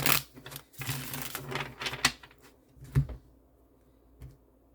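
A deck of cards being split and shuffled by hand: quick, dense riffling clicks and snaps in short bursts, close and fairly quiet, followed by a couple of isolated taps, with no talking.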